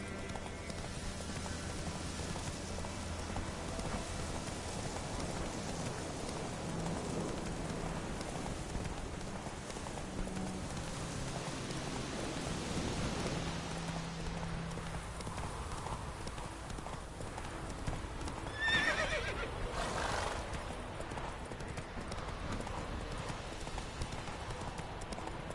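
Roach the horse gallops through rain in Witcher 3, a steady rapid clip-clop of hooves under a continuous hiss of rainfall, with a brief brighter burst near the end.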